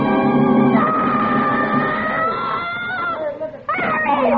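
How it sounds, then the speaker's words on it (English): A woman in a radio drama lets out a long, loud, sustained shriek, high and wavering, breaking off briefly near the end before a second scream begins. "And then she threw up her hands and shrieked."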